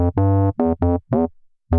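A looped bass note built from a single tiny waveform in a sampler plays as short, buzzy, harmonically rich tones in an uneven rhythm, close and dry, separated by brief silences.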